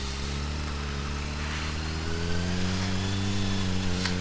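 A 2007 Honda CBR600RR motorcycle engine idles steadily up close, a loud even hum that rises slightly toward about 2000 RPM and holds there, with no talking.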